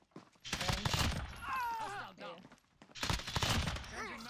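Gunfire in the Modern Warfare game's Cyber Attack mode: two loud, close bursts of rapid shots separated by a short pause in which a player talks briefly.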